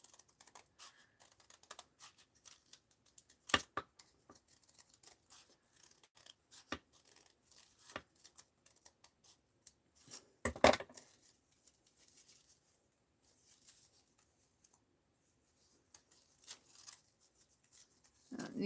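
Scissors snipping paper for an art journal, scattered quiet cuts and sharp isolated snips spread across a mostly hushed background, with a couple of louder clean cuts standing out.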